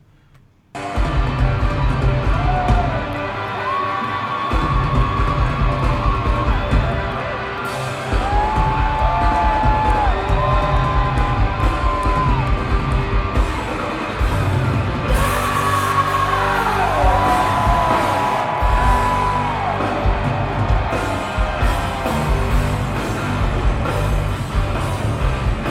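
Live rock performance in concert in Reno: loud, dense rock band with drums, guitars and sung vocals filling the hall, crowd noise blended throughout the full stretch.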